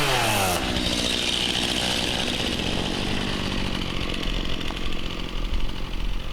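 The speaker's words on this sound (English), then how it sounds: "you know you're from a family of 7 when you're sleeping through a chainsaw" A chainsaw roars loud and close, running steadily with a buzzing engine drone that rises and wavers slightly near the end, with no voices over it.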